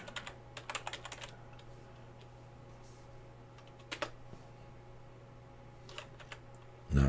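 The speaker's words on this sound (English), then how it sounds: "Let's type it in." Quiet bursts of computer keyboard typing, soft rapid clicks in short clusters separated by pauses, heard close over a faint steady hum.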